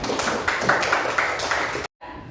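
A classroom group claps together for a group of students, a dense patter of many hands sustained for about two seconds, then cut off abruptly before a quieter tail of room sound.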